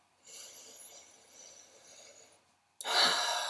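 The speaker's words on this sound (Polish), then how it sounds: "Parę głębokich oddechów." A person takes deep breaths during a guided relaxation practice: one long, soft, close exhale, then a brief pause, then a louder, sharper breath.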